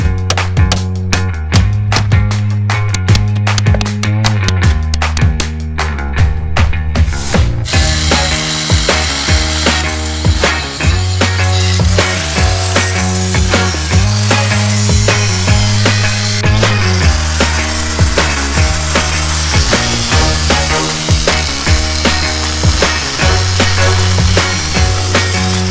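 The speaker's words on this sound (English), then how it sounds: "now we're going to grind it down and see what it looks like underneath" An angle grinder works down welds on a steel sailboat hull under repair, a loud, continuous harsh grinding with rhythmic pulsing as the disc is pressed and moved, running unbroken throughout.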